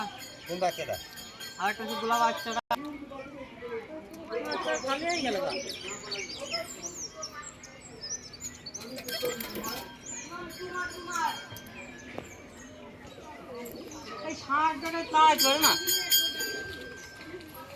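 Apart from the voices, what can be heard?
pigeons cooing and flying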